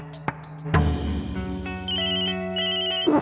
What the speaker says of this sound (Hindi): माँ, घर से फोन है।